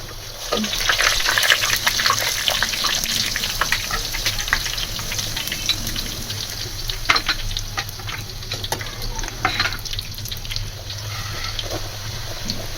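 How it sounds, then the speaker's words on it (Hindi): Paratha fries in hot ghee in a kadai, giving a continuous bubbling sizzle with crackling spatters throughout, close and fairly loud, with no one speaking. "आराम से इसको घी में छोड़ देंगे।"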